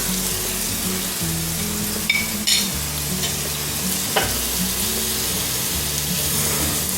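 Quartered mushrooms with flour sauté in melted butter in a frying pan, giving a steady, close sizzle with soft stirring scrapes running throughout.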